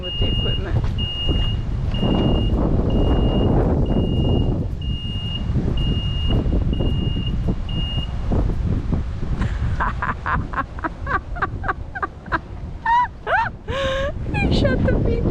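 Construction equipment sounds a steady high reversing beep, evenly spaced and repeating for about eight seconds over engine and traffic rumble, then stops; afterward a person talks and other chirpy squawks follow.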